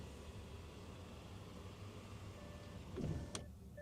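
The pop-out window of a VW ID Buzz closes automatically with a short whirring electric motor near the end, ending in a soft stop, over quiet cabin ambience.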